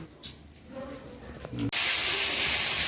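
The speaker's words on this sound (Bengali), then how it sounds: "তেজপাতা লঙ্কা একটু জিরে তেলের মধ্যে ভেজে নিচ্ছি" Bay leaves, dried chilli and cumin sizzle in hot oil for a mango pickle, a sudden loud, steady hiss of frying bursting in after a quieter stretch of kitchen sounds and stirring.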